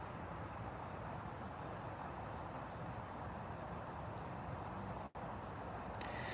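A cicada calls with a steady, high, thin buzzing drone that pulses slightly, faint and somewhat distant, with no voices over it.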